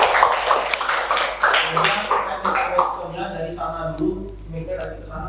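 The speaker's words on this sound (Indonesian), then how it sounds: "Tepuk tangan buat Rizky" A room of people claps for Rizky during a discussion session, dense applause at first that thins and fades while a voice speaks over it.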